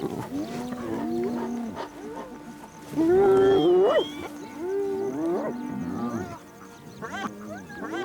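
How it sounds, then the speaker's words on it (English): Spotted hyenas calling and whooping in a growing chorus around a lion kill in the African wild, with rising, bending cries that swell loudest in the middle and overlap continuously, close and dense with no speech. "The noise level builds as the hyenas call for reinforcements."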